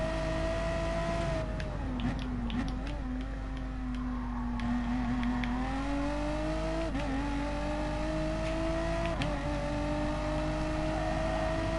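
Caterham Renault race car in Gran Turismo Sport, a steady high-pitched engine drone rising and dipping through gear changes, with brief shifts and revs, continuous and close, no talk.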